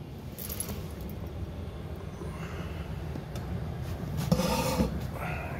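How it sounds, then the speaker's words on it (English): A putty knife scrapes debris off a workplace floor in short rasping strokes, close and moderately loud, with a few sharper metallic scrapes near the end. "Some more crap that just needs to be scraped off. That's why we have putty knives."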